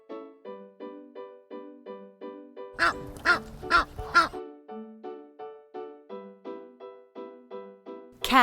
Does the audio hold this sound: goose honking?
yes